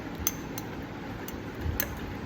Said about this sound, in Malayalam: ഇങ്ങനെ നല്ലപോലെ മിക്സ് ചെയ്യുക